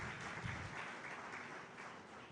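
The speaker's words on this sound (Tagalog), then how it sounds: "Pumalakpak ng malakas sa ating mahal na Panginoon." Congregation applauding during a church service, a dense continuous wash of many hands clapping at moderate level throughout.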